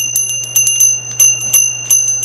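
A Sarnabel hand bell hanging from the fingers rings in a quick series of bright, ringing strikes that sustain and overlap, loud and close, with a steady low hum beneath.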